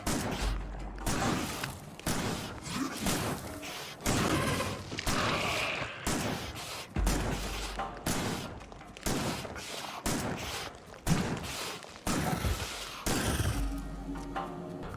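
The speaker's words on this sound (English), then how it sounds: "I finally come to my senses and going close with the shotgun." Repeated shotgun blasts and explosive bursts in Factorio on a Deathworld map while attacking an alien base, dense loud gunfire and impacts crowding the whole stretch with barely a pause.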